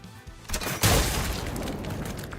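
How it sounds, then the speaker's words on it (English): A deafening explosion bursts against a giant crab's shell in the video game Intervallo II, with a sharp loud boom that rolls into a sustained roaring blast tail for the rest of the moment. "A blinding light and deafening explosion assault the crab's shell."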